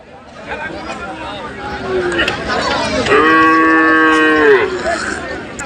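At a bustling cow market for medium-sized bulls, a loud, close moo swells and holds for over a second, rising above a background of crowd babble and nearby talk.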